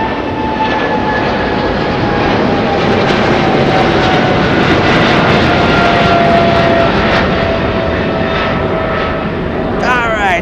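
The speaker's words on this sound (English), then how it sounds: "777 China Airlines, out of here, out of here" A China Airlines Boeing 777 jet roars loud and close through its takeoff, a steady broadband engine rumble with a faint high whine gliding downward, sustained for the whole stretch with no voices.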